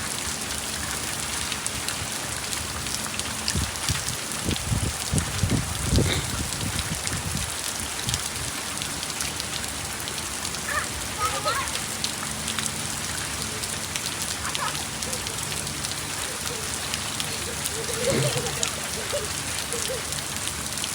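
Steady rain falling outdoors on a cold day, a dense, even hiss of drops pattering on surfaces throughout, with a few faint thumps and movements in the middle.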